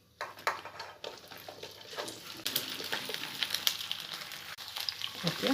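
Okra goes into hot oil in a pan on the stove and sizzles softly. The frying grows a little louder over the few seconds, and nobody speaks.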